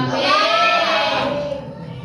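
A sheep or goat bleats in one long, wavering cry that fills most of the moment and then trails off, loud and close, with no talking over it.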